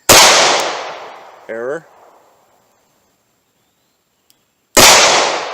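Two sharp pocket-pistol shots firing Winchester Silvertip .380 Auto or .38 Special rounds, loud and close, the first trailing off over a couple of seconds before a brief chirp, then silence until the second blast.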